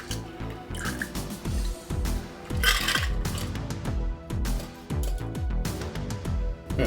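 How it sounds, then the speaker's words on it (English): A cocktail is strained onto fresh ice in a glass, with a trickling pour broken by repeated close drips, splashes and light icy clinks in an uneven rhythm. "From there we're going to strain the cocktail onto the fresh ice."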